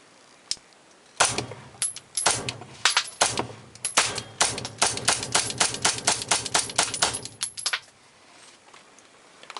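A Beretta 92FS pistol fires 115 grain full metal jacket reloads in a long, rapid string of sharp, loud reports with brief echoing decays, broken by a couple of short pauses before the shooting stops.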